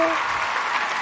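Brief steady applause from a studio or show audience, a dense wash of claps at even loudness from start to end.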